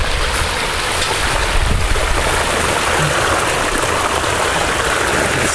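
Water from a backyard waterfall in Calgary, which has a leak, rushes loudly and steadily, a constant close-up splashing flow with no voices.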